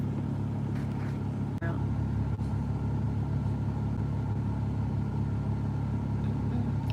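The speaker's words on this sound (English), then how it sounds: "I'm in the car enjoying the air conditioning" A car idles inside with the air conditioning running, giving a steady low engine rumble and a broad fan hum that stay constant, broken only by a couple of faint clicks.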